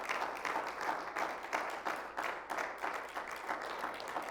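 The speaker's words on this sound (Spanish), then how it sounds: "Pues denle un fuerte aplauso al Señor en esta hermosa tarde del Señor." A church congregation applauds in a soft, distant, rhythmic clapping that holds steady throughout, with no talking.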